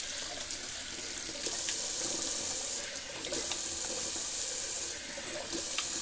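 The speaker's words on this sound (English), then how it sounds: "Just doing a cold water rinse." A tap runs steadily into a sink, a constant close hiss of flowing water with slight shifts as the stream is interrupted.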